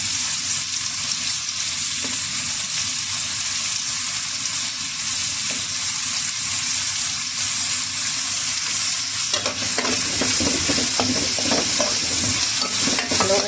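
Chicken and tomatoes frying in a pan for tinola with bottle gourd and moringa, a loud, steady sizzle with scraping stir strokes, the crackle thickening and turning busier after a stir near the end.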